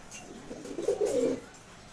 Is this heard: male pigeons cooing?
yes